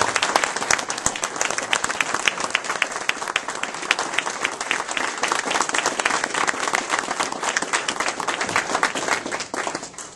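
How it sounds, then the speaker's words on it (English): A crowd at a campaign debt retirement event applauds Phyllis, the clapping loud, dense and sustained throughout before easing slightly at the very end. "big round of applause for Phyllis"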